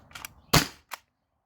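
Modded T4E HDB68 airsoft shotgun running low on gas pressure, fired in a short burst: a faint pop, a loud crisp crack, then a smaller pop, close up with silence between.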